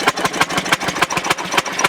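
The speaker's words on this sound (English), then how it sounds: "Right now the engine is spinning for the car to go forward this way." A Fairmont S-2 railroad motorcar engine runs steadily nearby, its fast, even firing pulses chugging in a rhythmic putter with no talk over it.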